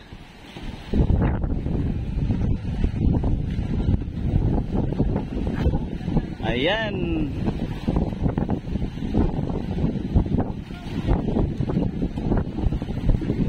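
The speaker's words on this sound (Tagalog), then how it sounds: "Kalakas ng hangin dito ngayon." Strong, steady wind roaring and buffeting the microphone for the whole stretch, with a brief voice heard once in the middle.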